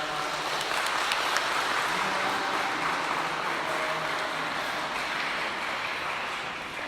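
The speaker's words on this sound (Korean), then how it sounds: "우리 다시 한번 축하하면서 박수하도록 하겠습니다" A church congregation applauds during a Sunday service celebration, giving a steady, sustained wash of clapping throughout that holds at an even level.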